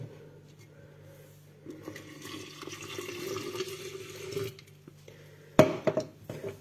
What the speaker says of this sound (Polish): I zalewamy wodą.